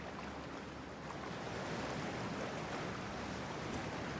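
A character in the video game Cyberpunk 2077 entering freezing water: a broad wash of splashing and churning water that swells after the first second and then holds steady, with no speech.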